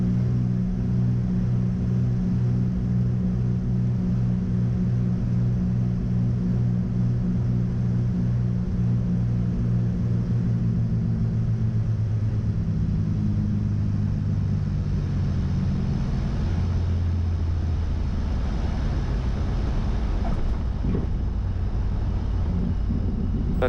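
Small airplane engine drones loud and steady through the landing approach on a lit runway, its rumbling tone shifting lower near touchdown with a brief thump near the end.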